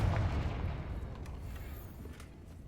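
A Confringo fire spell in the Hogwarts Legacy video game lands as a loud, booming blast at the start, followed by a rumbling burn that slowly fades away.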